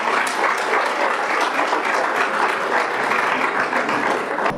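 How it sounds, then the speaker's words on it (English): Audience at a public discussion on civic and democratic space in Zambia giving a round of applause, a steady, full clapping from many hands that continues evenly to the end. "I think they deserve another clap."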